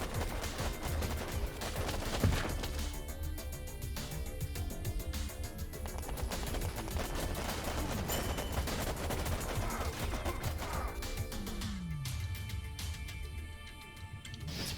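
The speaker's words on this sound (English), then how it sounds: "Too many grenade shots" Grenade shots and rapid gunfire in the video game Warpips, a dense continuous barrage of bursts and pops, loud and busy, thinning out near the end, with no talk over it.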